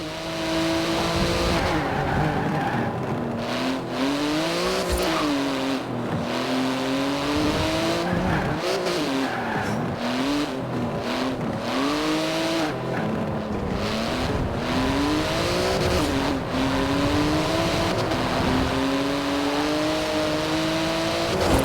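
A Porsche 911 GT2, a wide street-legal near-race car, driven in Forza Horizon 4 with a loud, continuous engine roar rising and falling through gear changes, repeated tire squeal and skidding, close and steady throughout with no talk.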